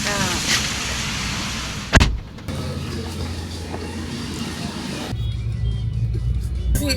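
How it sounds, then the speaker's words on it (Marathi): A car idles with its engine left running, a steady low rumble heard close from inside or beside the vehicle, broken by a brief thump and a door or handling noise. "गाडी चालू ठेवली आहे ठीक आहे"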